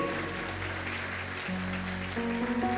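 Church congregation applauding during a Portuguese-language communion service, a dense, even wash of clapping heard from a distance with sustained musical tones from instruments underneath.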